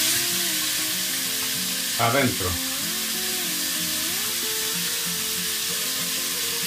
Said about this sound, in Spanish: Y esto lo vamos a sofreír.